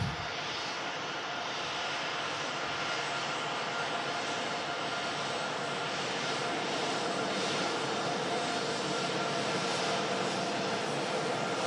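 Sunexpress airliner engines at an airport during plane spotting, a loud, steady jet roar that holds without a break for the whole stretch, with no voices over it.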